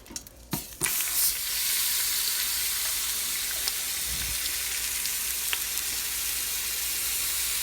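Heavy chuck roast searing in a hot Instant Pot, a steady loud sizzle after a few initial clunks of the meat being set down, with occasional pops and crackles over the continuous hiss.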